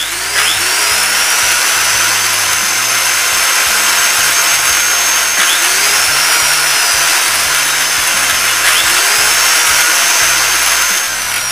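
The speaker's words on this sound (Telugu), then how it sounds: "మోటార్ ఆన్ అవుతుంది." A DC shunt motor, brought up through a three-point starter, runs with a steady loud whine and broadband hum, holding an even pitch throughout with no talk.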